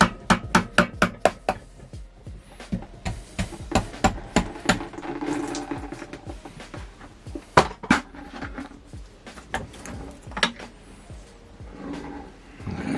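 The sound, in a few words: hammering on engine parts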